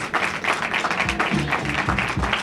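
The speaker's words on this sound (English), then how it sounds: "please give Mr. Shivi Singh Gurewal another big round of applause" Audience applause at a ribbon-cutting ceremony opening a Tanishq jewellery boutique, a steady crowd of many hands clapping throughout, fairly close, with some low voices mixed in.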